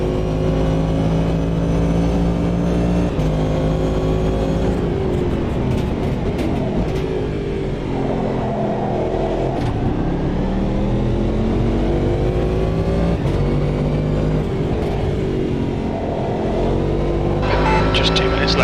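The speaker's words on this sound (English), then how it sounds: "Enjoy the sounds of the Cadillac DPi at Laguna Seca." A Cadillac DPi prototype race car lapping Laguna Seca in Automobilista 2, its engine droning loud and close throughout, rising and falling in pitch through gear changes and corners.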